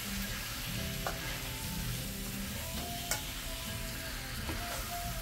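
Shrimp sizzling and frying in a pan of sauce, with a steady close hiss and occasional stirring clinks, no voices.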